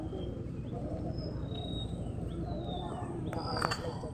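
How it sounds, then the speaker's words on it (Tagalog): Several birds call and chirp in short, thin whistles over a steady low outdoor rumble at a park in Biñan, with a few brief bright calls near the end and no clear talk. "Daming ibon."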